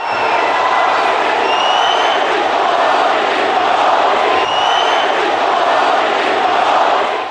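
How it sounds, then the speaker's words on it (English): Large Indian American crowd at Nassau Coliseum on Long Island, a loud roaring, chanting mass of voices with whoops and cheers, sustained throughout at full volume in a big arena. "met by a sea of excited Indian Americans chanting his name."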